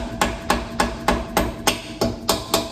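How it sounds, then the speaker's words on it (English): Shim driver hammering a shim into place during a Mustang gear swap: eight sharp, evenly spaced metallic strikes, close and clear with no talk. "it's a good idea to get a shim driver like this so you don't damage anything in the spacers when you're hitting this in"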